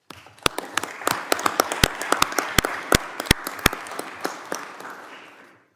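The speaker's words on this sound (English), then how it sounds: "I'd like to give a round of applause to the men and women of law enforcement." Applause for law enforcement officers in a hearing room, a modest group clapping with distinct sharp individual claps close by, irregular and sparse, gradually thinning out and fading after about five seconds.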